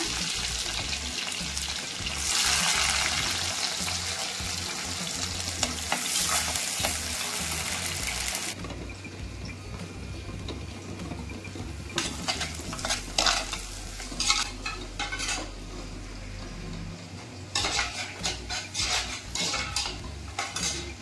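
Mustard seeds and sun-dried vadagam fry in hot oil, a dense crackling sizzle with repeated spoon scrapes and clinks against the pan, loud and close, easing briefly then returning with sharper stirring strokes.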